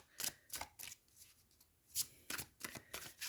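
Tarot cards being shuffled in several quick riffling bursts with short pauses between them, close and fairly soft, with no talking.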